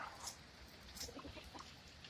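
Chickens clucking faintly outdoors after flash flooding, a few soft scattered clucks and calls at a distance over low background noise.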